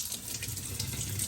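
Tap water runs into a sink while parts of a PETLIBRO cat water fountain are washed, a soft continuous splashing hiss, fairly faint and steady.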